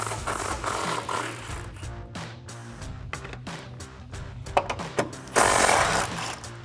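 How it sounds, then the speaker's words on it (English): An impact gun removes 13mm strut tower nuts on a 2008-2023 rear-wheel-drive Dodge Challenger during a coil-over install, giving a series of close, rattling hammering bursts with short pauses between them. "These are 13mm, so grab your impact gun and your socket and get those 3 off."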